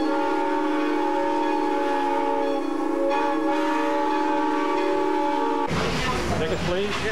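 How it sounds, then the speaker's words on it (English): Train whistle on a locomotive, blowing one long, steady, loud chime-like blast for about six seconds, then cutting off into a voice and cab ambience. "And this is the whistle."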